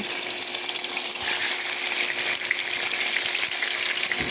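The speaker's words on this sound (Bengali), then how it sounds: "তেলটা গরম হয়ে গেছে, এখন মাছগুলো দিয়ে দিচ্ছি" Fish pieces fry in hot oil, giving a dense, steady sizzle and crackle that runs loud and continuous throughout, with no voices.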